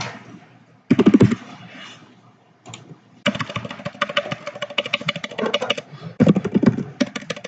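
Rapid clattering keystrokes on a laptop keyboard in bursts, close and fairly loud, with brief pauses between runs of typing and no talking.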